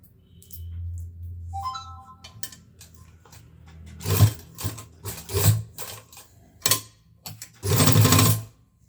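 A sewing machine top-stitches the zipper on a school coat in several bursts of close, steady whirring, with short pauses between runs and a quiet stretch at the start.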